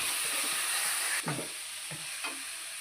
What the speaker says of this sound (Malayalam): അതിൽ ഇഞ്ചി വെളുത്തുള്ളി പേസ്റ്റ് ഇട്ട് കൊടുക്കുന്നുണ്ട് കേട്ടോ. ഞാൻ നല്ലോണം മൂത്ത് വരട്ടാം.